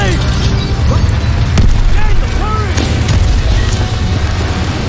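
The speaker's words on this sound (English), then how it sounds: "Toss it out a grenade!" A grenade blast in Call of Duty WWII erupts as a loud, heavy boom amid constant low rumbling battle noise, with voices talking over the din.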